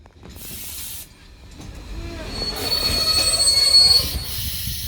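A loud train rumbles and hisses nearby as its wheels let out a thin, high metallic squeal that swells midway and then fades.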